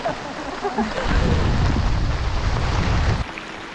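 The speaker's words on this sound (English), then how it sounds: "Double raining when it's bouncing up as well" Heavy rain pours down on a Scottish loch, bouncing up off the surface in a loud, dense roar that swells after a moment and then cuts off abruptly near the end.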